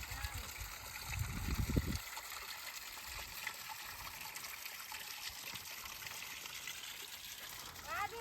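A forest stream near Anthiyur, Erode, flows and trickles steadily in a low, gentle rush, with a louder burst of rumbling noise at the start before settling into a quiet, continuous babble.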